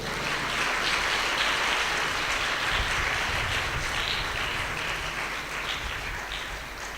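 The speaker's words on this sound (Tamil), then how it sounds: "கைத்தட்டுங்க எல்லாரும் ஆண்டவருக்கு." A church congregation claps together during a Tamil sermon, producing a steady, dense wash of applause that holds at an even level for several seconds, with no voices standing out.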